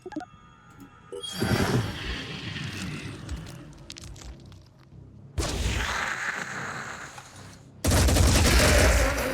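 Gunfire in the tactical video game Phoenix Point: Terror from the Void, with loud volleys of shots and cracking bursts that come in waves, stepping up sharply in force near the end.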